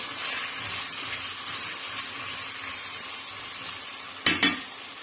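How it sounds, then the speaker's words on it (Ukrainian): Steady, bright sizzling of potatoes frying in a pot, with a couple of sharp metallic clinks near the end. "Нам потрібно нашу картоплю піджарити до золотистого кольору."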